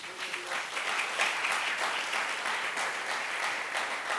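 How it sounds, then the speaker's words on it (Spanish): A church congregation applauding during a sermon, a dense, steady wash of clapping from many hands that fills the whole stretch with a faint voice underneath. "Denle un aplauso al Señor"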